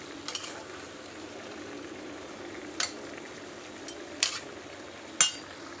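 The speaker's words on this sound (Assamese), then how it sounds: "আমাৰ চিকেনখিনি ফ্ৰাই হৈ আছে" Chicken pieces fry in a pan, giving a steady, moderate sizzle. A few sharp clinks of utensils against the pan are heard near the end.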